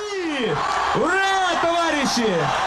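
A large crowd at a rally celebrating Crimea's referendum victory roars and whoops in loud, sustained waves of cheering, with rising and falling collective shouts filling the whole stretch.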